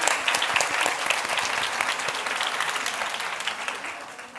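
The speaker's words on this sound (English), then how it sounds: "That man over there, can everyone give him a round of applause?" Audience at a literary festival applauding steadily for several seconds, dense broadband clapping that fades slightly toward the end.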